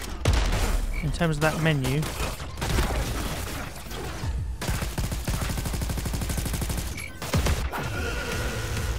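Rapid bursts of gunfire from a gun in the video game Crackdown 3 mix with booms and mechanical clatter in dense, repeated volleys, with someone talking over parts of the action.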